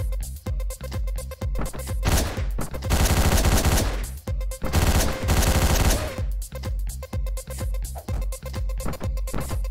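Gunfire in the video game Hotline Miami: loud, punchy shots in quick bursts, including a dense rapid-fire stretch in the middle, with short gaps between volleys.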